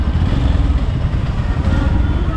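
A motorbike runs close by near the Kali Mata Mandir in Patiala, its loud, steady engine putter and mechanical clatter continuous without a break.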